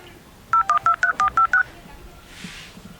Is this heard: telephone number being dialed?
yes